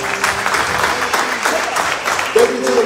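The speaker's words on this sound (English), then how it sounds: "but we want to clap, not for him, but for the God that is in him" Church congregation applauding, an even burst of clapping under a voice that carries on over it, with a brief tonal sound near the end.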